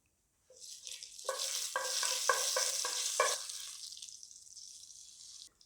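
Cumin seeds, small bay leaves and three cloves fry in hot oil, giving a soft sizzle that starts suddenly and fades near the end, with a few quick stirring scrapes in the middle and no talking.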